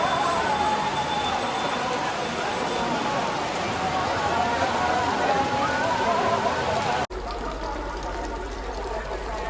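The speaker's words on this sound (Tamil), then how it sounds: "உடனே மழை பெஞ்சிருச்சு" Steady rain pours down outside in Palani, a dense continuous hiss of drops on surfaces that holds at an even level, briefly cutting out near the end before resuming.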